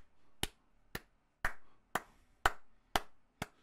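Hand claps ring out seven times in a steady, evenly spaced run, each one sharp, crisp and close, with no talking around them.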